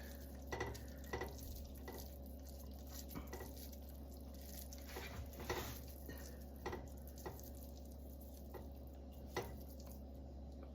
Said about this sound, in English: we're gonna break up our burger and stir it around while it cooks